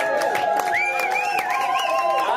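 Concert crowd applauding and cheering after a brass band number in a Bern club, steady dense clapping with whoops and sustained tonal sounds over it, loud and close throughout.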